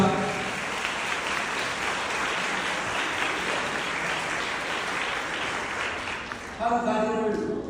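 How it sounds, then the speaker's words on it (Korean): Sustained applause fills a wedding ceremony hall in South Korea, a steady, dense crowd clapping that runs for several seconds before a voice starts speaking over its tail. "큰 박수 부탁드립니다."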